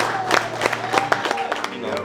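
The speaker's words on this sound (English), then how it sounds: "So one more round of applause." Audience applause fills a dinner celebration marking completion of the first year of the Build program, a dense patter of clapping with scattered sharper claps and a murmuring crowd underneath.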